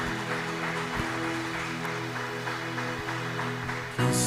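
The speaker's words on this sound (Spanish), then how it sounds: "Démosle un fuerte aplauso al Señor." Church congregation applauding the Lord, a continuous even patter of many hands over sustained musical tones, with a brief louder burst at the end.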